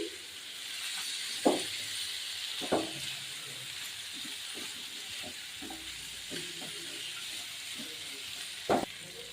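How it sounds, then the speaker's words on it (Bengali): Potatoes sauté with ginger and green chili in a pan, a faint continuous sizzling hiss with a few sharp spatula scrapes and clinks spaced irregularly, close but quiet, no talking. "এখন একটু ভালো মতো আমি আদা কাঁচা লঙ্কাটা আলু সমেত কষিয়ে নিচ্ছি।"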